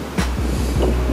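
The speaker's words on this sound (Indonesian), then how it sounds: "Ini bukan noise, ini memang suara angin." Strong wind blowing across the microphone at a forest park, a loud steady roar with low rumbling buffets, and no voices.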